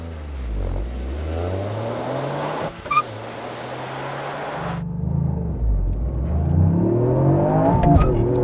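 A Toyota sports car launches from about 3,000 rpm with slight clutch slip at a drag race. Engine revs climb in rising sweeps, ease briefly at a shift, then build again, loud and close throughout.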